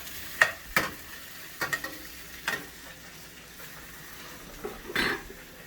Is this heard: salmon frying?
yes